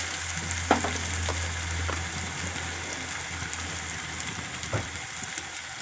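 Egg curry masala frying in a pan as chili powder goes in, a steady close sizzle with a few sharper crackles and light scraping, no voices.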